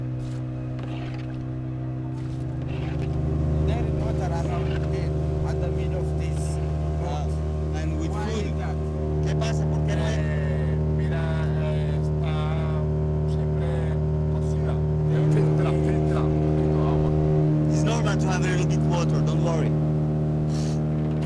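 A motorboat engine drones steadily as the boat travels up the Tuira River in Panama, the pitch rising and falling with the throttle, while people talk over it throughout.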